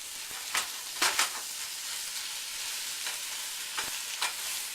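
Eggs with cilantro, tomatoes and avocado are stirred in a frying pan, with soft steady sizzling under a handful of sharp scrapes and taps of a utensil against the pan.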